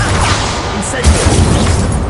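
Fiery Incendio spell blasts go off in Hogwarts Legacy as a steady rumbling roar with a sharper burst partway through. A voice is heard over the effects.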